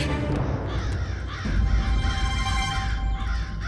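Several crows caw loudly and repeatedly over a dense, noisy background, in a tense scene of crows seen as an omen of death threatening a town.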